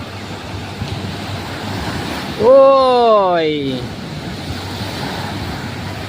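Steady roar of ocean surf at a busy beach where people swim and surf, continuous and broadband under wind, with a short voiced exclamation partway through.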